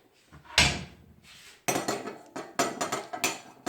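Peeled white radish (mooli) is rubbed over the coarse side of a metal grater in a home kitchen, giving a series of quick, scraping strokes in an uneven rhythm, close and fairly loud, with no voices.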